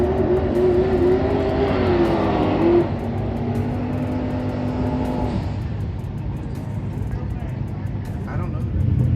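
A drag race car launches at Rockingham Dragway, a loud close engine roar with rising harmonic whine that climbs then fades into a steady rumble as it pulls away, with people talking over it.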